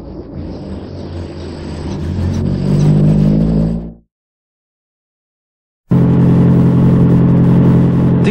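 A Proton Saga four-wheel-drive rally car roars along a stage of the 1992 Malaysian Rally Championship in Selangor, its engine loud and building, then cutting to sudden silence for about two seconds before the strained engine noise returns just as loud.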